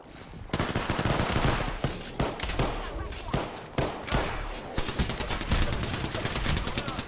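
Rapid automatic gunfire in the battle royale video game Apex Legends, loud bursts of shots in quick succession with brief pauses between volleys, continuing throughout under faint talk.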